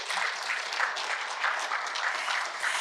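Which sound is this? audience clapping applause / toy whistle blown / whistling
audience clapping applause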